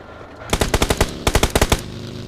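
Automatic gunfire in the mobile game PUBG Mobile, two loud close bursts of rapid shots, about six and five rounds, separated by a short pause, over a low ambient hum.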